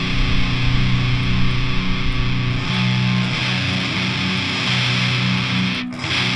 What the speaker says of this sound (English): This is the sound of the buzz I'm talking about.